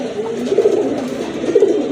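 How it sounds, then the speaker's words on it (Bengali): A black-and-white Muslodom pigeon coos close by, two rounded throaty coos about a second apart, loud and alone. "এটা হচ্ছে আপনার সাদা কালো মুসলদম কবুতর, দেখতে পাচ্ছেন আপনারা। খুবই ভালো ডাকে"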